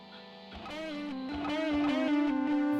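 Distorted electric guitar solo run through clip distortion and stereo delay plug-ins in Logic Pro, sustained bent notes climbing in pitch with a steady gritty tone and faint echoing repeats, building slightly louder, no voices.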